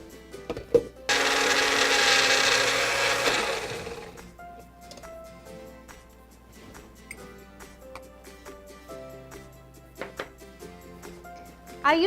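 A Magic Bullet blender purees onion in one loud, dense whir of about three seconds that cuts off sharply, followed by quieter clicks and kitchen handling sounds.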